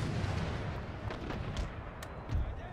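Mortar fire in Empire: Total War, a dense rumbling barrage of distant booms with a few sharper cracks rising out of the continuous battle din.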